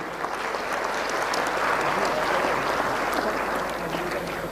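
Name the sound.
audience applause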